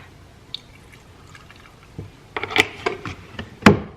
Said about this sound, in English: And then some oat milk.